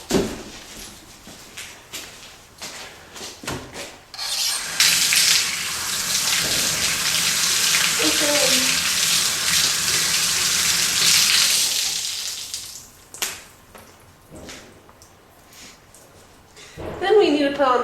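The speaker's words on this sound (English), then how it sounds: "First, we need to wash our hands." Hands washed under a running tap in a dairy barn: a steady gush of water for about eight seconds, with talk before and after it.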